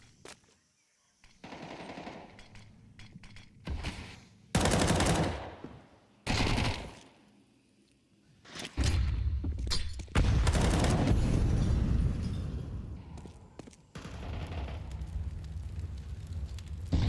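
Gunfire in a Counter-Strike match at a major tournament, including Desert Eagle shots: loud sharp bursts and single cracks separated by quieter gaps, then a long dense stretch of firing and rumbling noise.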